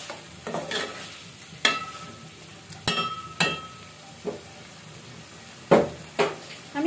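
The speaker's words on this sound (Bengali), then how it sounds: "এখন আমি মুরগিটা কিছুক্ষণ ভাজতে দিয়ে দিব" Chicken pieces frying in a pan for a chicken masala, with a soft sizzle under several sharp scrapes and clinks of a spatula stirring against the pan, spaced irregularly and fairly quiet.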